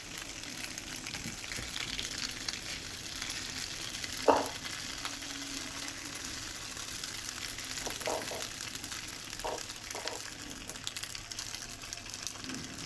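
Fish fries in a pan with a steady, soft, continuous sizzle, close by, broken by an occasional faint knock or stir.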